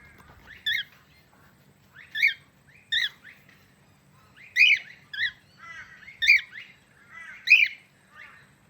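Common myna birds call repeatedly with harsh squawks and chattering whistles, several bursts spaced a second or so apart over a low background hum.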